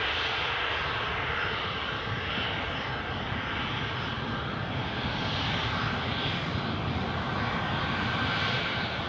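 A departing airliner at Newcastle airport roars steadily in a broad, sustained engine rumble with a hissing upper layer, heard alone and holding level throughout.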